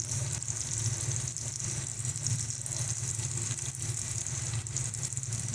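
Powdered spices sauté with potato and tomato in hot oil for a pomfret fish curry, giving a steady, close sizzle with no break, over a low background hum.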